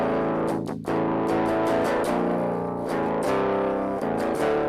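An electric guitar played through only a noise gate and a distortion pedal gives loud, sustained distorted chords and riffs with a few short gated breaks between them.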